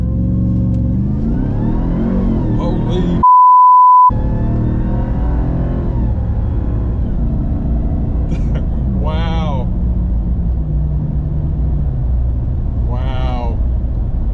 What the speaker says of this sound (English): Apply full throttle.